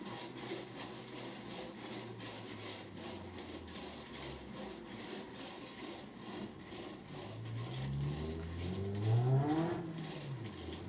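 Paint-poured canvases spin on a motorized spinner, a faint steady whir that builds into rising, whining sweeps as the spinner speeds up late on.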